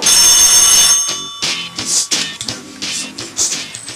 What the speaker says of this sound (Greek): Μπέτη, Γκάλτα, τηλέφωνο πάρτο γιατί εγώ θα το βρίσω.